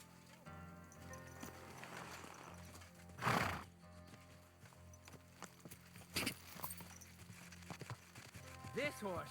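A horse in the video game Kingdom Come: Deliverance II gives a loud neigh, with hoof clip-clops and footsteps scattered around it over a quiet music bed, and a voice is briefly heard.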